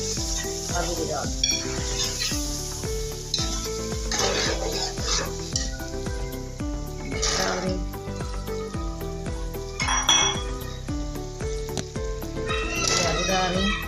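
Potatoes going into a cooking pot for a chicken, pea and potato curry, with steady sizzling, stirring scrapes and metallic clinks of a utensil against the pot, repeated throughout at close range.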